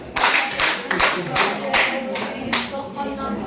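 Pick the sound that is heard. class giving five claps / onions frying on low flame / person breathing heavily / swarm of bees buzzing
class giving five claps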